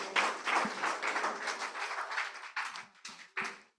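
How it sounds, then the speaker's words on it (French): Applause for the Lord from a church congregation during a Sunday service, a dense wash of clapping that thins into a few separate bursts before stopping. "On peut applaudir le Seigneur."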